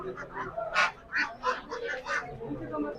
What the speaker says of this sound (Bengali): আপনার কাছে যে এই যে রাজা হাঁসগুলো আছে